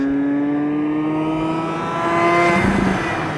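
A Mazda RX-8 rotary engine revs steadily with a smooth, rising whine. It swells louder toward the end as the revs climb, heard alone with no talk.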